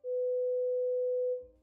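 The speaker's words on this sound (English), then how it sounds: "And then the 500 hertz tone sounds like this." A 500 hertz audiometric hearing-test tone plays as a single steady, pure, sustained beep lasting over a second at moderate level, alone with no talk.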